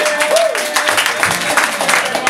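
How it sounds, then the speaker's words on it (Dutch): An audience applauds for Jorrit, a performer about to play kazoo at a live music show, in a steady burst of clapping that stays fairly loud throughout, with a little voice mixed in. "applaus voor Jorrit"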